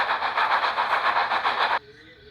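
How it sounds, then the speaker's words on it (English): Rhythmic, steady chuffing of a steam engine labouring up a steep hill, loud and close, in evenly spaced bursts over about two seconds before cutting off abruptly. "Percy was growing tired and tired, puffing up the steep hill"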